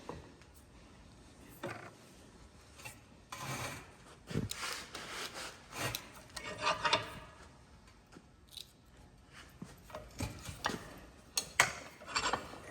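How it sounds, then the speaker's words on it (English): A spark plug wire terminal being crimped in a vise, giving scattered close metallic clicks, squeezes and scrapes in uneven bursts over quiet background, with no talk. "And we'll pinch it using the vise."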